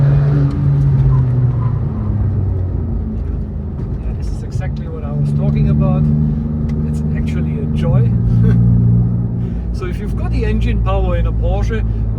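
Porsche with upgraded performance brakes cruising at over 150 km/h, a steady loud rumble of engine and road noise with slight swells in pitch, heard from inside the cabin under someone talking.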